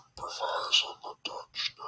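A soft, breathy whisper, close and quiet, with short hissing syllables and brief pauses.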